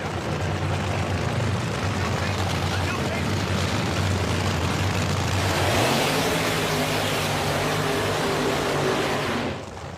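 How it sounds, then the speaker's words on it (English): Phoenix drag race car doing a tire burnout at a nitro drag racing event, a loud sustained roar of engine and screeching, hissing tires that swells midway and cuts off near the end, heard beneath an announcer's commentary. "As the Phoenix race car does its burnout"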